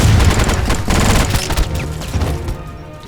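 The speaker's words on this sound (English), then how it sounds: "being that this is a 50 cal sniper" A .50-caliber sniper rifle fires repeatedly in the video game Enter the Matrix, each shot a loud booming crack with rumbling echoes and debris over a dense, noisy background.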